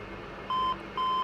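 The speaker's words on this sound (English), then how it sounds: "That's actually your overspeed warning as it's doing the air data test." Overspeed warning in a Dash 8 Q400 cockpit in a flight simulator during an air data test: two clean, identical electronic beeps, each a steady tone lasting about a quarter second, over a quiet cabin hum.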